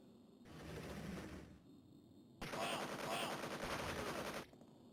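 Shooting in a 1995 Amiga video game: two sustained bursts of rapid gunfire, the second louder and longer, over a constant background hum.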